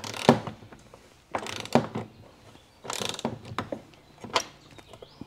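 A wrench loosening bolts on a golf cart, giving repeated ratcheting clicks in bursts of a second or so, each followed by a pause, close and fairly loud.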